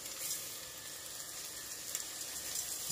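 Raw rice hits a pan of sautéed onions and sizzles steadily, a continuous bright hiss of frying, close and even, with a few faint clicks.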